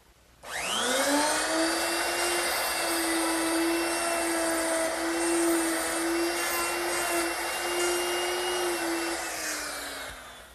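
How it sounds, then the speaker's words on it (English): A router with a half-inch mortising bit, guided by a jig, cuts a hinge mortise in wood for a writing desk. It spins up to a loud, steady high whine, holds for about ten seconds, then winds down near the end. "I've made a little jig to guide my router, and the router is equipped with a 1/2-inch mortising bit"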